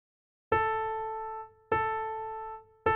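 Isolated right-hand piano melody from a neo soul progression, with three clear single notes struck slowly, each ringing out and fading before the next, soft and alone.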